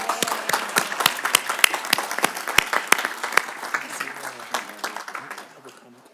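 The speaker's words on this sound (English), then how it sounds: "I'd like one more round of applause to the veteran students." An audience at a board of trustees meeting gives veteran students a round of applause, a dense patter of many hands close by that thins and fades toward the end.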